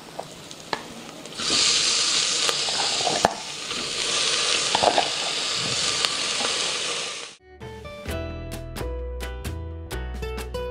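Masala sizzles and fries in a pan for chicken soup, a steady loud hiss broken by stirring clatters, then raw chicken pieces hit the hot oil and the sound shifts to a deeper, crackling sputter.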